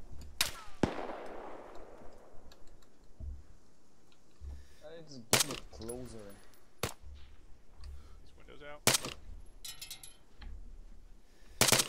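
Rifle gunfire in the military game Arma 3: sharp, loud single shots spaced several seconds apart, each with a ringing echo, amid game ambience and occasional talk between players.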